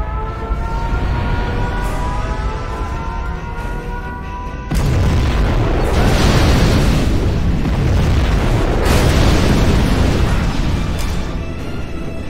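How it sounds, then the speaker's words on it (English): A nuclear missile detonates in C&C Generals Zero Hour, a massive, sustained roaring blast that erupts suddenly after a humming lead-in and keeps rumbling loudly for several seconds, with a further swell of thunder midway and no speech. "We have launched our nuclear missile!"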